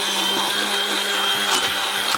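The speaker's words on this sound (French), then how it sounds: "je pense que je vais passer la préparation donc au mixeur." Kitchen blender whirring steadily as it mixes almond galette batter with pear and apple filling preparation, a close, continuous motor drone with no talk.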